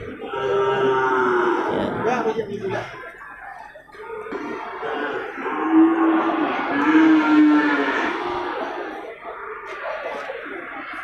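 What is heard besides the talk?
Aceh cattle mooing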